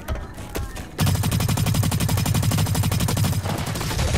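Rapid automatic gunfire from a weapon in the shooter Blacklight: Retribution breaks out after a second of quieter noise, a loud, even stream of shots lasting about three seconds before easing slightly.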